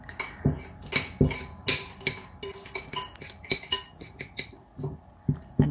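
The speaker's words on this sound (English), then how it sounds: "I'm going to mix this up so it becomes like a creamy looking texture" Coconut tart filling with caster sugar beaten in a bowl until creamy, repeated scraping and clinking strokes of a utensil against the dish, close, uneven in rhythm, with no voices.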